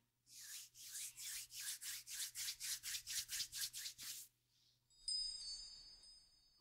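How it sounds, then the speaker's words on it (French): Two hands rubbing together fast and hard, giving a run of about a dozen quick rhythmic swishing strokes close up, then a faint brush and a bright ringing tone at the end. "Frotte tes mains plus fort."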